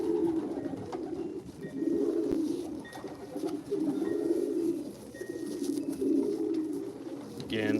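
Racing pigeons coo in soft, repeated rolling phrases inside a loft, several birds overlapping at moderate volume with faint rustling between calls.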